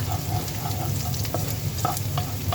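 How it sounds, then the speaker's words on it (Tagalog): Garlic and onion sautéing in hot oil in a pan for a squash (upo) vegetable dish, giving a steady close sizzle with a few scrapes of stirring, alone with no talk. "Naglagay na tayo ng mantika sa ating kawali at iginisa na natin yung ating bawang at sibuyas."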